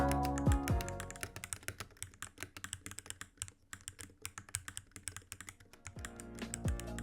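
Rapid clacky keystrokes on a mechanical keyboard fitted with XVX Turbo Graphics keycaps, a dense irregular stream of sharp taps at close range, with a brief pause midway.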